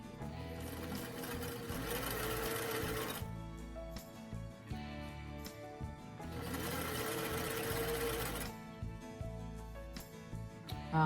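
A sewing machine stitches doll thigh highs on a long, wide stitch setting, running loud and close in two sustained bursts with a short pause between them and no talk.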